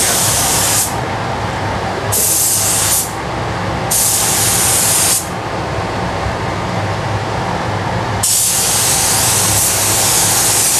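A spray gun paints a car, including a wheel arch, with loud, steady hissing bursts of several seconds each, separated by short pauses.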